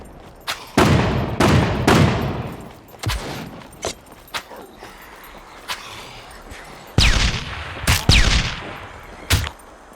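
Gunfire from a sentry in the SCUM video game: sharp, loud shots arrive singly and in short bursts with irregular gaps, some close and punchy, others lighter and more distant.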